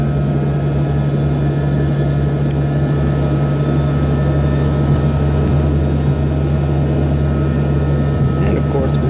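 An Embraer ERJ-145 regional jet taxiing at Washington Dulles in winter, heard from inside the cabin as a loud, steady engine drone with a constant low hum and no break.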